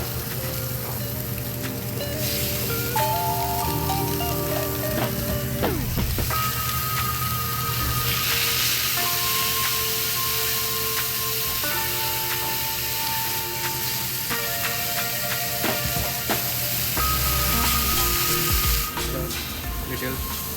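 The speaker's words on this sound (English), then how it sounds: "This is gonna sizzle. Oh yeah. Piping hot skillet" Steady, loud sizzling of fresh mystic grouper frying in a piping hot skillet fills the whole stretch, with clinks and faint tonal background sounds layered over it.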